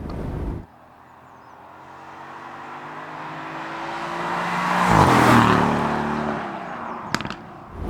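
An Aston Martin V8 Vantage F1 Edition drives by with its V8 exhaust rising from a steady drone to a loud, close peak, then tailing off, with a couple of sharp clicks near the end.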